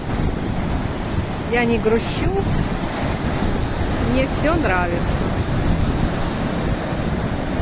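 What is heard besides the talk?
stormy Black Sea waves on a deserted beach, with wind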